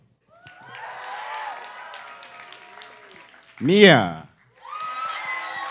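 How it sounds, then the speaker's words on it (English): A crowd cheers for poetry slam contestants at a 2017 high school event: a swelling wave of shouts and whoops, cut by a single loud announcer-style call, then another burst of cheering. "please cheer the loudest for the one you think deserves the Best Crowd Award"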